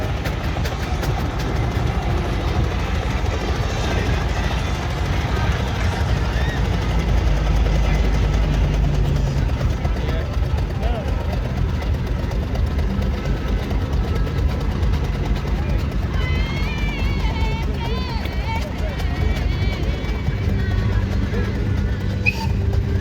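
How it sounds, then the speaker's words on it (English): A small Fowler steam engine named Wee McGregor, built for light work, running at a Whitby steam rally, with a steady low rumble and churning mechanical noise throughout while people talk over it. "a superb little steam engine, Wee McGregor. A little Fowler for light work"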